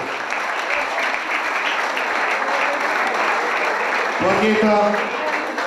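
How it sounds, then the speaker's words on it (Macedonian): A hall full of people applauds a volleyball coach at an anniversary ceremony for OK Makedonija Strumica, sustained and even clapping that swells slightly near the end while a voice speaks over it. "Аплауз за Зоран Јанков."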